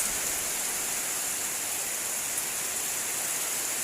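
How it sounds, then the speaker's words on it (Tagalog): Strong wind and heavy rain outdoors make a dense, unbroken hiss that stays at a constant loudness throughout, with no voices. "Malakas yung hangin guys, and then kanina pa umuulan"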